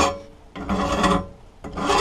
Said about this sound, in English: if you're going to use a file, all I normally do is just gently